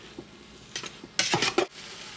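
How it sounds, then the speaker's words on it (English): Ground beef being broken up with onions and peppers in a pan for classic chili, heard as a few scraping utensil strokes against the pan, with a louder burst of stirring near the end over a quiet background. "we're gonna break up this ground beef here a little bit. Get those onions and peppers mixed in some"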